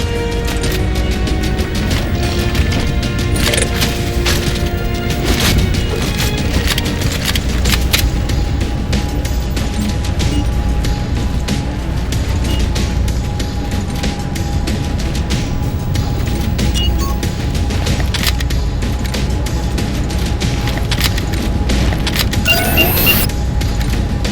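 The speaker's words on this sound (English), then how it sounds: "Railgun reloading! Alright, Master Chief, we're clear" Halo 4 combat: a railgun firing amid explosions, with loud, dense, continuous booms, blasts and mechanical clatter throughout.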